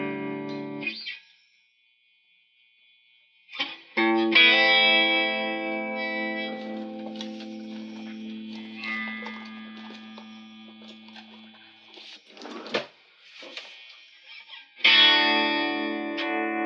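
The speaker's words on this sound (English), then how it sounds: "Let's hear some of this distortion." A Vox AC15 valve guitar amp is played with the power amp pushed into distortion. Crunchy, sustained guitar chords ring and decay, with a steady mains hum under them, a silent gap near the start and a fresh loud strum at the end.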